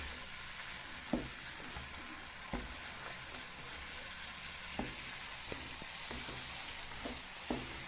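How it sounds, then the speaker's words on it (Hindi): Spices roast in hot oil with a quiet, continuous sizzle, broken by scattered light scraping taps from stirring that recur every second or so. "अच्छी तरह मसालों को भून के"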